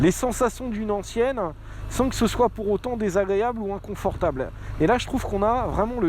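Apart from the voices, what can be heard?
No everyday noises stand out.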